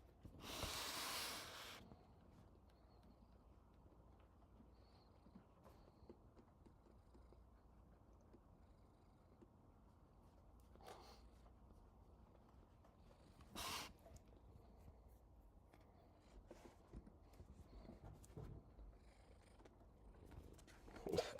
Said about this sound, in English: Miles is purring very loud right now